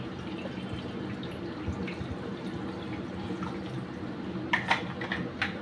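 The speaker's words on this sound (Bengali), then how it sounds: "এইবার ভালো করে ঠান্ডা জল এটাতে দিয়ে দিচ্ছি।" Cold water running over drained noodles in a colander for prawn chow mein: a quiet, steady trickle and wash with a few sharper splashes and drips near the end.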